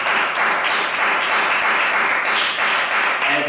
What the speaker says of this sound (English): let's give a round of applause to our brother Ray